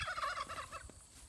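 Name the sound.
Narragansett turkeys gobbling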